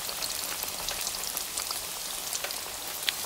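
Chicken pieces frying in hot oil give a continuous bright sizzle scattered with small crackling pops, steady and fairly quiet throughout.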